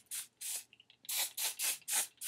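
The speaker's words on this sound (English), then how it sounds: "Spray these a little bit." Six short hairspray bursts from an aerosol can hiss in quick succession, close and loud, with a tiny click between the second and third, while spraying beach curls.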